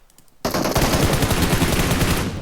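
Rapid automatic gunfire from a PUBG Mobile match in the Livik ruins bursts in loud and sustained after a brief quiet moment, a dense stream of shots that carries on without any talk.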